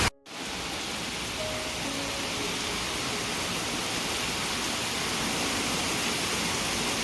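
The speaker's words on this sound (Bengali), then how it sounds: "প্রচুর জোরে বৃষ্টি হচ্ছে, দেখতে পাচ্ছ ঝড়ের মতো উড়ে যাচ্ছে বৃষ্টিগুলো এখন।" Heavy, wind-driven rain pouring down during a storm, heard from a balcony as a steady, dense wash of hiss that holds constant and loud throughout.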